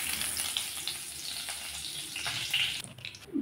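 Cumin seeds sizzle in hot oil left over from frying eggs. A loud, steady, hissing crackle runs throughout with no talk.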